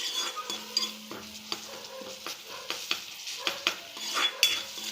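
Turmeric and spices stir-fried in a pan for a green moong bhaji: close, irregular scrapes and clinks of a spoon against the pan over a soft sizzle, with no voices.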